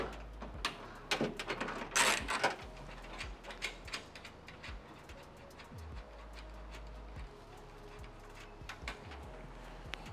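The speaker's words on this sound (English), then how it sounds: "Unplug and loosen the nut." Loosening an 8mm nut on a Tesla Model 3/Y tail light with a ratchet: quiet clicking ratchet bursts with a louder flurry early on, then slower repeated clicks close by.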